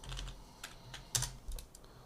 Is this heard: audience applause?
no